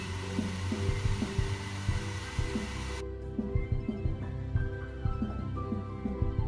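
A heat tool blows steadily to dry weathering paste on tank road wheels, a loud airy whoosh with a low hum that cuts out about halfway, leaving a quieter mechanical drone.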